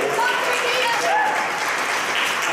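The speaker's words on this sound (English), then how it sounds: "Why don't we give them a hand of applause?" Applause from an audience at a celebration of a long-running program, a continuous wash of clapping at even loudness throughout, with a voice speaking over it.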